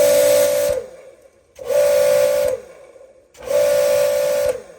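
An Active 2.3 pressure washer sprays in three loud bursts of about a second each. Each burst is a strong hiss over a steady whine, with quieter gaps between trigger pulls.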